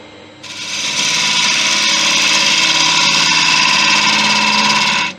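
A wood lathe cuts into a piece of driftwood, a steady loud whirring scrape with a rough tonal hum that starts abruptly and holds for several seconds before cutting off.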